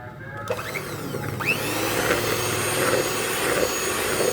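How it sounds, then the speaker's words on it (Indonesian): An electric mixer whirs steadily through choux pastry dough as eggs are beaten in one at a time, a continuous close motor drone with a small shift in pitch as it runs. "Kita satu dimasukkan, kita mixer lagi."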